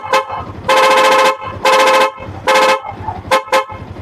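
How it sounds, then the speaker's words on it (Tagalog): A Sniper 150 motorcycle's loud horn blares in several honks: three long blasts of about half a second to a second each, then two short quick toots, loud and close with a low engine idle between them. "Yung pag naka-loud horn siya."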